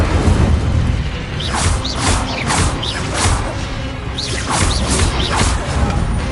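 An Incendio fire spell is cast in the Hogwarts Legacy video game, giving repeated whooshing, booming bursts over a dense, constant layer of game sound.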